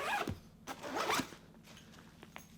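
Two quick zipper pulls opening a pocket on an Incase camera backpack, close and crisp, followed by faint soft rustles of fabric.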